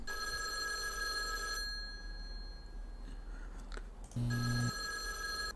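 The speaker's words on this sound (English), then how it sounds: "Yeah, pick up the phone." A telephone rings in a horror indie video game, a bright electronic trill repeating in bursts with pauses between, close and clear over a steady low hum.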